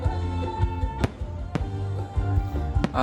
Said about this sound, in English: The fireworks start about 9:30 p.m.